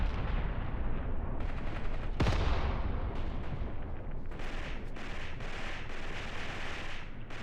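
Battle in the war game Graviteam Tactics, with a loud explosion near the start against dense, continuous gunfire and artillery rumble that carries on throughout without pause.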